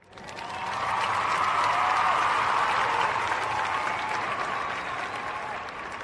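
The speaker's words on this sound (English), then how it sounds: "Maybe a little bit like too much applause tracks there." An applause track swells into sustained clapping and crowd noise that holds loud and dense for several seconds before easing slightly, with no talking over it.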